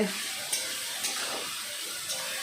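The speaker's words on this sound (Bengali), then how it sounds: "এবার এসে তরকারিটা বসিয়ে নেবো আমি।" A curry set on the stove fries with a constant hissing sizzle, broken by a few faint stirring clinks, steady and close with no talk.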